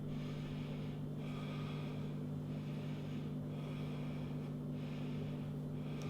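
Deep, slow breaths during a yoga crow pose rise and fall in a few soft, breathy cycles over a constant low hum, close to the listener, with no talking.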